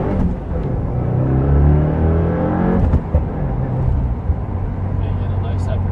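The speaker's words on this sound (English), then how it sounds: "Alright, first gear, straight the wheel, kneel the throttle." A 2015 Subaru WRX with a Stage 1 tune accelerates hard in first gear, its engine note climbing loud and close before a shift-like break, with someone talking over it.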